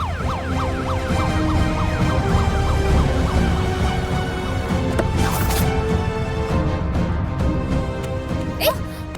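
An ambulance siren wails, sweeping up and down over busy background sound, steady and fairly loud throughout, with brief bursts of noise near the middle and end.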